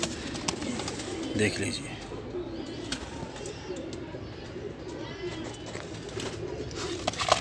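Sialkoti high flyer pigeons coo softly and steadily in a loft, with someone speaking over them throughout.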